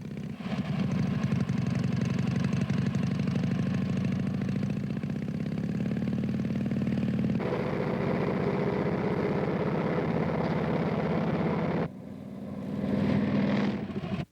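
A motorcycle engine runs steadily at a low, throbbing idle with a shift in pitch partway through, heard close and continuous for the whole stretch before easing briefly near the end.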